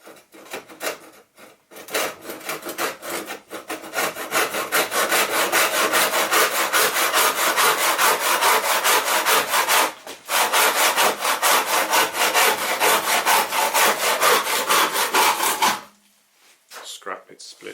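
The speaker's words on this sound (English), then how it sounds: "Cutting the base to length" A hand saw cuts a scrap wood base to length with rapid, rhythmic back-and-forth rasping strokes, loud and close, pausing once midway and stopping near the end after a few slower starting strokes.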